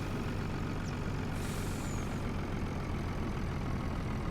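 A harvest truck sits idling, its engine giving a steady, close, continuous rumble with a brief hissing burst partway through, and no voices.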